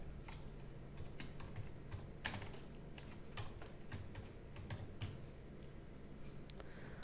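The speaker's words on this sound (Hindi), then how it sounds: "फिर टैब प्रेस करेंगे, शिफ्ट के साथ कोलोन" Clicky keys of a computer keyboard tapped at an uneven pace while text is entered in Notepad, with occasional heavier strokes over a quiet background hum and no voices.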